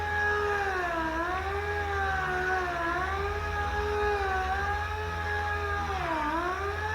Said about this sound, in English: the sandpaper is actually starting to cut it a whole lot better